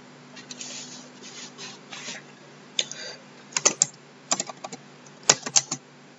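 Computer keyboard typing while entering Scala code, scattered bursts of crisp key clicks in uneven clusters, close and clear, with quiet pauses between runs.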